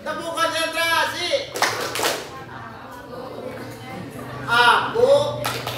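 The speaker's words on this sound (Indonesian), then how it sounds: "Tepuk konsentrasi." Students at a school orientation play the group clapping game tepuk konsentrasi, with bursts of rhythmic group claps mixed into loud chanting voices and a steady hum underneath.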